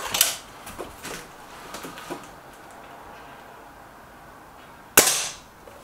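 Air rifle shots snap at a target in a comparison of a Crosman Silver Fox and a Stoeger RX20 S2, one sharp crack at the start and another at the end with faint ticks in between.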